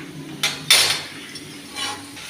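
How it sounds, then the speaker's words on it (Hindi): Cabbage, potato and carrot are tempered in a kadai, with a few sharp metallic clanks of a utensil against the pan spaced out over a low kitchen background. "इधर मैं सब्ज़ी छौंक रही हूँ"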